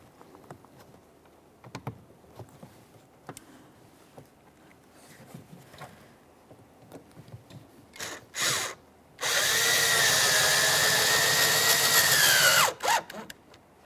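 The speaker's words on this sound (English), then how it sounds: "Now right inside this area, we're going to install our mounting screw." A power drill drives a mounting screw into the plastic rear door panel of a 2012-2015 Honda Civic, a loud whirring burst of about three seconds after short clicks and handling noises.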